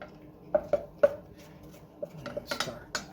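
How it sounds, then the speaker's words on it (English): A utensil stirs flour into a pan for a roux on a low flame, giving several close, sharp metallic clinks and scrapes at irregular intervals against a quiet background. "now I'm going to toss in just a little bit of the flour"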